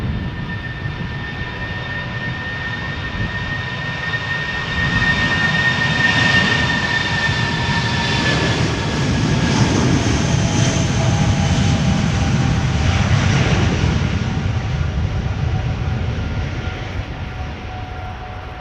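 An SAS Airbus A319 jet in Star Alliance livery takes off for Oslo from Schiphol's Polderbaan, its loud engine roar building up close with clear whining tones, peaking midway, then slowly fading as it climbs away.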